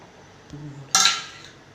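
A metal lid set onto a pot of cooking greens, a small scrape and then one loud, bright clang that rings out and fades.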